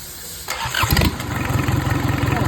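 A Kubota V1505 four-cylinder 32-horsepower diesel engine cranks and catches with a loud burst, then settles into a steady, rough, rhythmic idle close by.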